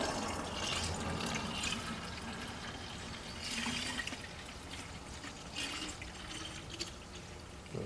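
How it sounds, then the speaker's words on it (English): Water poured into the cooling system of a BMW 328i E36, a steady liquid pouring and trickling at close range with a few brief surges, no talking. "So I'm gonna go ahead and add some water to it."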